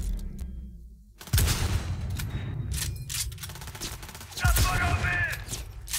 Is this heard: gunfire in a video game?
yes